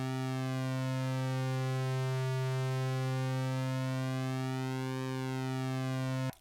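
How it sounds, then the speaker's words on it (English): A Behringer Crave synthesizer oscillator sounds a steady buzzy tone while its pulse width is modulated, the timbre slowly sweeping for several seconds before cutting off abruptly. "you can hear that pulse width changing."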